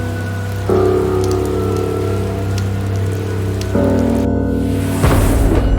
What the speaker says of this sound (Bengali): এ কি বৃষ্টিটা আবার শুরু হলো